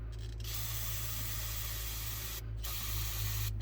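Carb cleaner sprayed into the carburetor of a 1976 Ford 390FE engine, a steady loud hiss running nearly continuously with two brief pauses, over a low idling engine hum.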